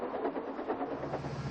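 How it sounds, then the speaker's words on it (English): The diesel engine Mavis runs steadily along the rails with a continuous rumbling drone and faint rhythmic clatter. It sounds moderately close and is heard alone, without talk. "from Mavis, who is a diesel engine"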